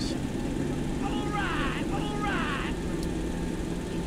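Boeing 727 engine starting in a flight simulator: a steady, close mechanical drone holds at an even level throughout, with brief warbling tones over it midway.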